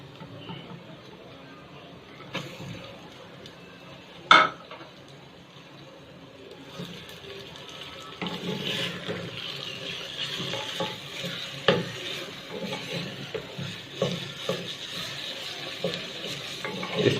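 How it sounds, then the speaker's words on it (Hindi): Minced beef keema frying with reddish-golden onions in a pan: a soft, steady sizzle with a spoon scraping and stirring, and one sharp clink early on. The stirring grows busier and louder in the second half. "इसको हम तकरीबन 5 से 10 मिनट तक इस प्याज में ऐसे भूनेंगे।"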